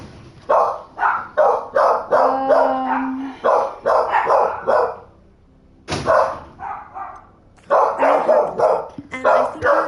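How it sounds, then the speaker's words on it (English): Dogs barking in the video game Hogwarts Legacy, a rapid run of loud, repeated barks in bursts with a short pause, fairly close and prominent. "now we've got dogs barking"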